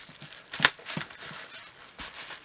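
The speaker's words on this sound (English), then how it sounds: "Cutting bubble wrap is pretty easy." Close scissors snipping through bubble wrap, with crinkly plastic rustles and one sharp crackling cut, no voices.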